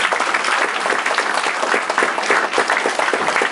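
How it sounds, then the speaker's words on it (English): Applause from a conference audience at a Mars mission meeting, a dense steady clapping from a crowd that fills the room for several seconds. "Let's give them a round of applause."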